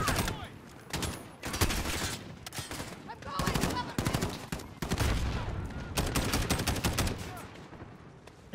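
SCAR rifle fire in the 2019 Call of Duty Modern Warfare campaign, loud repeated bursts of rapid automatic shots separated by brief pauses, close and punchy throughout.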